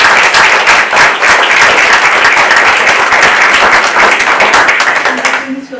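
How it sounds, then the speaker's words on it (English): An audience at a school committee meeting gives a loud, close round of applause, with brisk, dense clapping that holds steady before tapering off as voices begin to murmur. "How about one more round of applause?"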